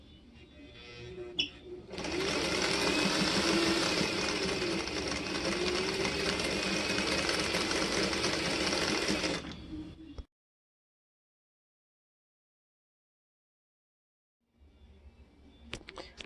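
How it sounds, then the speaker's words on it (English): A sewing machine chain stitching small patchwork pieces with a quarter-inch seam, a steady, fairly quiet whirring run of about seven seconds that stops abruptly, followed by silence and faint handling noise. "Chain stitch them together."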